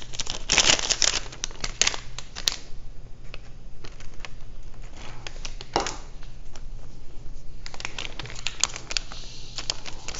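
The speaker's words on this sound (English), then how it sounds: "Cut the top off my second one." Close crinkling and rustling of a plastic MRE pouch being cut open and handled, with dense crackles at the start and again near the end and quieter handling in between.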